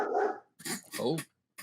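A pet dog barks a few times in the background of an indoor room, short sharp yelps separated by brief pauses, heard behind a person talking.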